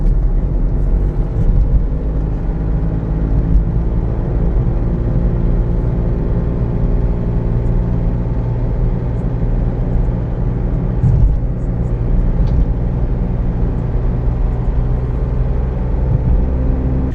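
Heard from inside, a car pulls hard up a 40 mph road in the UK, with a sustained engine drone that builds and holds for many seconds under steady road and wind noise.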